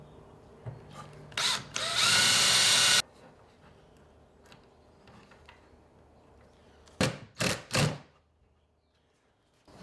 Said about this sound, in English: I'm gonna go ahead and pre-drill my hole before I drive my screw in